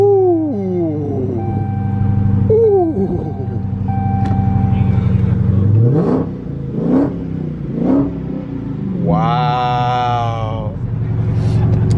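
A 2020 Dodge Challenger Hellcat Redeye with a supercharged V8 cranks and fires up, settling into a deep idle before several sharp revving blips and a long high howling rev, loud and close.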